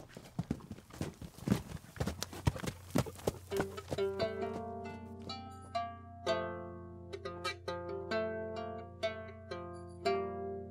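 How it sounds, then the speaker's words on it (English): A horse's hooves clip-clop in a steady walking rhythm as a rider rides away, with clear, fairly close hoof strikes and no voices. "He mounted his horse and rode off."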